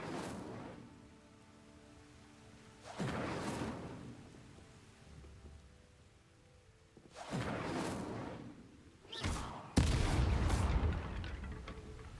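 Incendio fire spell cast in Hogwarts Legacy, a series of sudden fiery bursts: one early blast, then two close together and a final loud eruption, with quiet gaps between.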